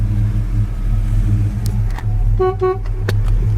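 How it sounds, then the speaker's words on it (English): A 1967 Dodge Coronet R/T convertible horn gives two short, close honks in quick succession over a steady low engine idle, with no one speaking. "Horn works."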